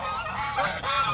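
Geese on a farm honk in a short burst of loud, nasal calls close by, several honks overlapping within about a second, with ducks also kept there.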